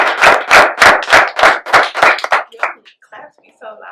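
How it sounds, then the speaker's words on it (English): Loud, close hand claps struck right into a microphone at a podcast event, about eight sharp evenly spaced claps, then a few faint quieter sounds trailing off. "Claps be so loud."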